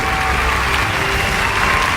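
An audience applauds with steady, continuous clapping, a dense, even wash at moderate loudness with a faint tonal hum beneath it.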